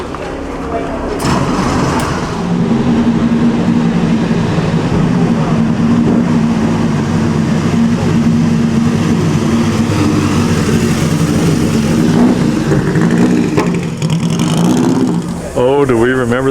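A Ferrari racing car engine drones loudly and continuously at a historic race meeting in Monaco, revving with a rough mechanical rumble for many seconds, rising at the end.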